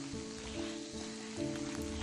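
Rain falls in a forest as a faint, steady patter with soft wet hiss, with no voices heard.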